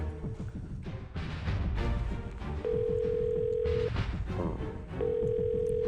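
Two long, steady ringback tones on a mobile handset, each lasting about a second, sounding over busy background music and ambient noise in a TV drama scene.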